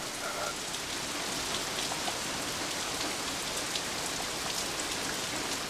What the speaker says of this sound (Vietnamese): Mấy bữa nay sao mưa lớn quá hả bà?